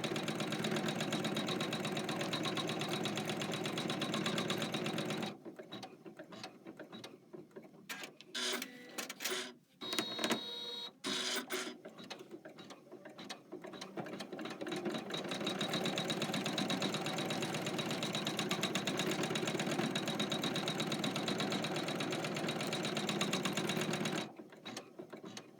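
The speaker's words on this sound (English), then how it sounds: "now we're going to stitch down our foam placement. This will be step 9 on your machine." A home embroidery machine stitches down foam placement on a zipper pouch project, a steady rapid mechanical whirring and clatter with brief pauses around the middle and near the end.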